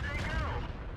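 A tank cannon fires in World of Tanks, a short heavy boom whose rumble decays over about a second, with faint battle noise around it.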